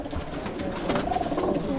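Pigeons coo in a loft amid a dense, steady murmur of birds, soft repeated coos rising over the constant background of the flock.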